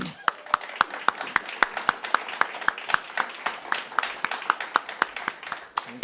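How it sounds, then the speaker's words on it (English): An audience at a cultural candidate forum claps as candidates walk onto the stage, a moderate round of applause with crisp, near claps standing out rhythmically above the crowd. "Let's give them a round of applause."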